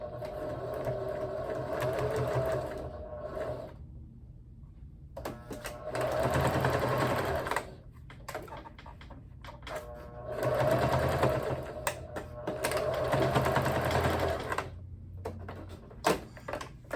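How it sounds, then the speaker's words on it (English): A sewing machine stitches an apron strap in three long runs of steady mechanical whirring, separated by short pauses, close and clear. "So let's sew that up."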